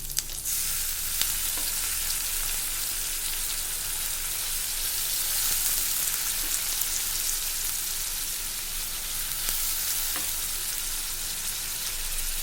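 Soaked moong dal dropped into a pan of frying onions and green chillies, a steady, close hiss and sizzle with a few faint stirring taps throughout, no voices.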